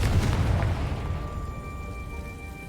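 A Confringo fire spell bursts with a loud explosive boom at the start of Hogwarts Legacy gameplay, then fades into a lingering magical ringing tone.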